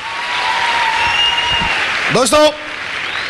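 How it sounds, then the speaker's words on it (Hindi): Audience applause at a business seminar, a steady wash of clapping filling the room while someone speaks over it briefly. "इतने प्यार का, मोहब्बत का और जोरदार तालियों का बहुत बहुत धन्यवाद"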